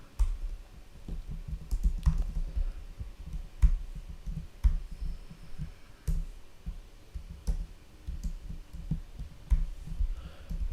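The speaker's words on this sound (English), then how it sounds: "I'm just gonna type in player ID here" Someone types on a computer keyboard, producing irregular, close clicks and taps in short bursts over a low background hum.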